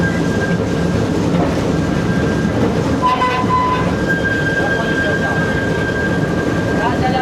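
A narrow gauge railway train on the Apusenilor line in Romania rumbles along its tracks with a steady, continuous roar and faint clatter, and a thin whine runs through it.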